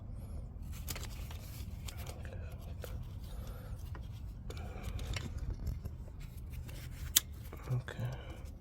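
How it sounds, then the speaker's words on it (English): Zip ties are cut and snapped off beneath a 1999 Honda Civic during catalytic converter work, giving quiet scattered clicks and snips with rustling against a low background hum. "gonna break off all those zip ties from last time"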